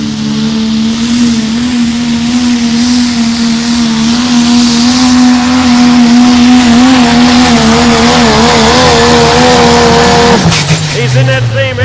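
A diesel truck on a pulling track, the Bad Timing truck, roars in a long, loud, steady engine drone with wavering pitch, then cuts off sharply near the end while an announcer talks over it.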